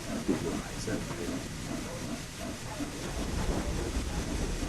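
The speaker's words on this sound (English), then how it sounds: "The cylinders, it should put the steam out more or less instantly as you open it up" Steam locomotive cylinder cocks venting in the Train Sim World game, a continuous broad hiss with rail rumble underneath, steady and fairly loud throughout.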